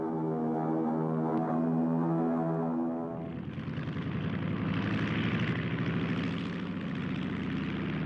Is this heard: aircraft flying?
yes